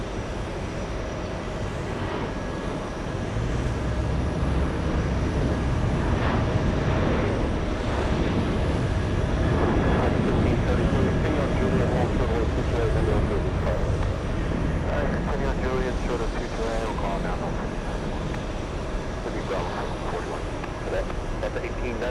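Airliner taking off at a busy airport, a broad sustained jet roar building and holding for the whole stretch, fairly near, with a voice speaking over it at times.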